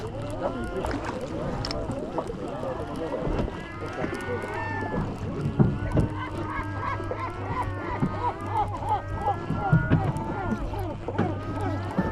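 Seagulls call repeatedly around a cod fishing boat off Lofoten, Norway, a dense chorus of cries over a steady engine hum, with people talking now and then.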